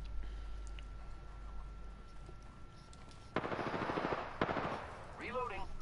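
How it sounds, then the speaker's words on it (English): Rapid automatic gunfire in Apex Legends, a dense burst of rattling shots starting abruptly after a quiet stretch, loud and close, followed by a brief sharp crack and trailing game effects. "Opening fire on the enemy."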